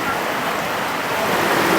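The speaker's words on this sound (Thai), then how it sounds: "โอ้ยฝนตกฝนตก" Steady rain falls on a home under construction in Thailand, a dense, constant hiss without breaks, loud and close for the whole moment.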